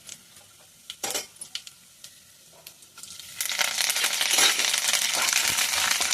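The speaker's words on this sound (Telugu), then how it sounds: "పోపేస్తున్నానండి తోటకూరకి." Tempering spices dropped into hot oil in a pan for a Guntur-style amaranth leaves stir fry: a few utensil clinks and taps at first, then a sudden loud, steady sizzle and crackle that continues close up.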